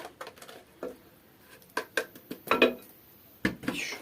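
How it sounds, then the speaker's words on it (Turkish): Tomatoes rubbed against a metal hand grater in a home kitchen while preparing stuffed peppers with minced meat: a run of uneven rasping scrapes and clatters, close and fairly quiet, with short pauses between strokes. "Domatesi rendeledik."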